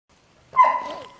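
A single close, sharp dog bark that rings briefly and fades out, following near silence.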